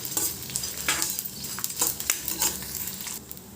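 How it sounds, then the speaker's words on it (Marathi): Leftover edible gum fries over very low heat in a pan for winter laddoos, with a steady close sizzle and repeated scraping stirs of a spoon at an uneven rhythm, no talking. "आता हा बाकीचा उरलेला मी तळून घेते। हा पण तसाच एकदम लहान गॅसवर सारखं हलवत राहायचं याला"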